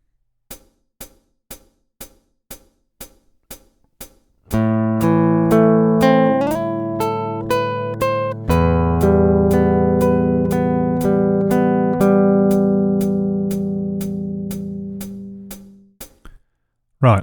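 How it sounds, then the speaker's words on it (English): Steady metronome-like clicks tick alone for a few seconds, then left-handed fingerstyle acoustic guitar plays a phrase, close plucked notes and ringing chords that fade away before a final click. "let's see and hear the last 2 bars of line 1 being played"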